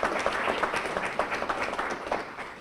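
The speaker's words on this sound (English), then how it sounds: "let's have a round of applause for Commander Cost" A crowd at a Lake Charles press conference for a Patriots Ball applauds a Coast Guard commander, a steady, dense clapping that fills the room evenly for the whole stretch.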